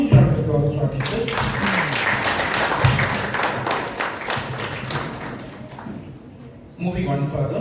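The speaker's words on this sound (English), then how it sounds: "Requesting all of you to give a huge round of applause to our teachers." Audience applause for teachers at a school event swells into dense, continuous clapping for several seconds, with a voice speaking over the microphone before and after it.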